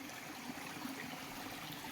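Water flowing steadily down a rural stream after rain, a continuous broadband rush and trickle filling the whole two seconds with no voices.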